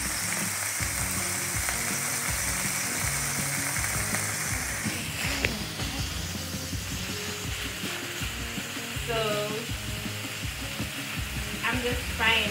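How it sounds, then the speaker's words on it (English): Chicken pieces frying in oil in a pan for a chicken and shrimp pasta, giving a steady close sizzle with clinks and scraping of stirring, while someone talks briefly over it. "I'm just frying it."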